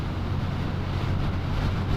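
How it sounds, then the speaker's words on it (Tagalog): Steady low wind rumble buffeting the microphone on a motorcycle ride near Cervantes, Philippines, beside freshly harvested rice fields, continuous and fairly loud throughout with no voices. "So medyo mahangin dito."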